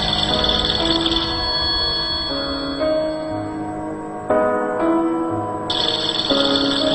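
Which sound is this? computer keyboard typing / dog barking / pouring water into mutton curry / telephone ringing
telephone ringing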